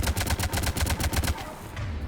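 Rapid automatic gunfire in the Mass Effect 3 video game, aimed at an enemy tank, crackles in a fast burst of about a dozen shots before cutting off.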